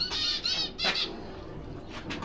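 Pet finches, including zebra finches and society finches, in a bird cage give a few short chirps and squawks close by, in quick bursts over low background noise.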